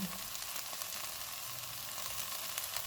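A creamy chicken filling with cream, dried oregano and fresh coriander sautés in a pan, giving a soft, even sizzle at low volume for a few seconds with no speech.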